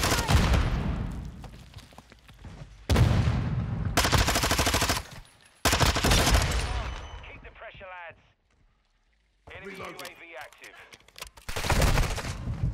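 Automatic gunfire in Modern Warfare II comes in loud, rapid bursts of several seconds each, separated by short gaps and one near-silent stretch. Someone talks during the quieter moments.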